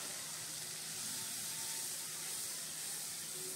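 A yogurt mixture with coriander, cumin and Kashmiri chilli is added to hot oil with okra for a Bengali doi bhindi, giving a loud, even, close-up sizzle and hiss that holds steady without pause.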